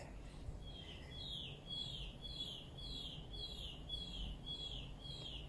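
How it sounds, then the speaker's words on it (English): Several birds sing outdoors in a steady series of short, repeated chirping phrases, moderately close, over a low background rumble, with no talking. "Hear the wonderful birds."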